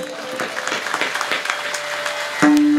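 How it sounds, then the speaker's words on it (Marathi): Loud applause from a kirtan audience, a dense steady patter of many hands clapping together for the full stretch, swelling slightly louder near the end. "एकदा जोरदार टाळी वाजवा."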